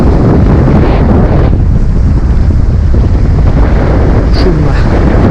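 Strong seaside wind at Lazarevskoye beach on the Black Sea coast near Sochi buffets the microphone in a loud, continuous low roar, with surf mixed underneath and no talking.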